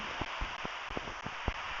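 Rain falling in Minecraft, a soft steady hiss of rainfall with a few sharper pattering hits scattered through it, faint and even with no voices.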